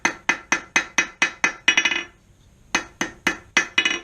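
Hammer striking a forged hook taper at the edge of the anvil, a fast even run of bright ringing blows, a brief pause, then another rapid series, close and loud with no voices.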